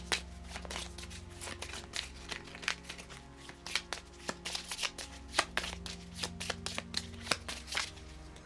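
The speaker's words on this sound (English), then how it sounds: "so let me just quickly shuffle." A deck of playing cards riffled and shuffled during a Marvel Champions card game: a steady flurry of crisp, rapid card flicks and snaps, close and fairly quiet, with no talking.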